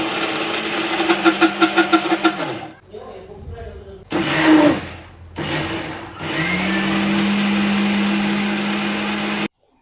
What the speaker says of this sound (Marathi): आता आपण हा जो काही मसाला आहे पाणी टाकून वाटून घेऊ